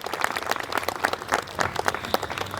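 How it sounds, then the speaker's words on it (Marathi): Audience applause at a Matoshri Art Academy event, a moderate patter of scattered claps with irregular peaks, steady throughout and heard alone without talk. "एकदा जोरदार टाळ्या होत्या"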